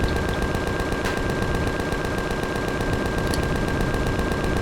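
Continuous rapid automatic gunfire in the space video game Empyrion, aimed at a turret on the moon, a dense unbroken rattle of shots with a steady mechanical hum beneath.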